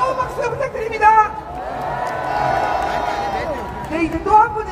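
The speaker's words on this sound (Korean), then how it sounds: "다시 한번 뜨거운 박수 부탁드립니다" A large outdoor rally crowd at Cheonggye Plaza, gathered for the launch of a presidential defense team, cheers and whoops loudly with clapping and shouting voices mixed in, a dense, sustained roar that swells and dips.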